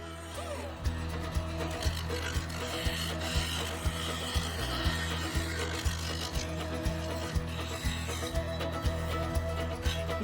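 A carbide woodturning tool tears into sapele bowl segments spinning on a lathe, a steady low rumble and hum under continuous rough scraping with regular knocking thumps as the segmented blank turns, close by.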